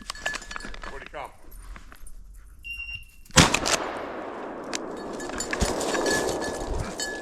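Shotgun blast during a late-season pheasant hunt, a single loud sharp report in the middle of the clip, with brief talk and outdoor rustling before and after.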